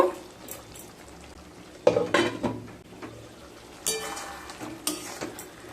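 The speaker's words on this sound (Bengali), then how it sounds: "কিছুটা সর্ষের তেল দিয়ে দিলাম। এবার নেড়ে নেব।" Drumstick curry cooking in mustard oil in a pan is stirred, with a few sharp scrapes and clinks of a spoon against the metal over a faint, steady sizzle, with quiet gaps between strokes.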